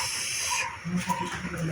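A pot of water bubbling at a rolling boil, with steady hiss and soft irregular bursts, heard close up and on its own.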